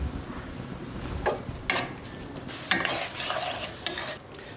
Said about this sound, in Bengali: আদা রসুন পেস্টটাকে দিয়ে দেবো অল্প একটু লবণ দিয়ে দেবো দিয়ে সুন্দর করে কষিয়ে নেব